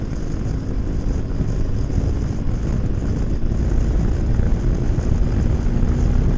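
Hero XPulse 210 motorcycle engine pulling steadily in sixth gear on a road while carrying a heavy load, a loud continuous drone mixed with wind rush and no change in pitch.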